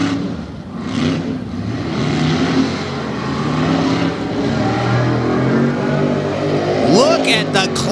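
A Ford truck races around a dirt track in a Tough Trucks Challenge final at Bloomsburg, Pennsylvania, its engine roaring and surging loudly and continuously under a commentator's running talk.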